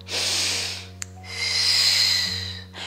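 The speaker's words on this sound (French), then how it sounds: "Je répète la respiration. Inspire et expire." Slow breathing during a back-stretching exercise: two long, close airy breaths, an inhale and an exhale, separated by a brief click, over a steady low hum, with no talking.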